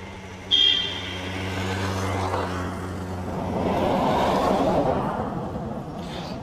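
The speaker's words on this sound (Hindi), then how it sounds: "गाड़ी और स्कूटी की आवाज़ से कितना डिस्टर्ब हुआ पता" A car and a scooter pass along a jungle road, with a steady engine drone that swells as they draw near, plus a short horn-like tone early on.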